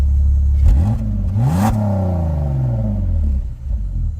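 A BMW 3 Series E46 with a heat-wrapped exhaust revs once from a deep idle, the engine note climbing and sliding back down, then settling into a loud, close rumble.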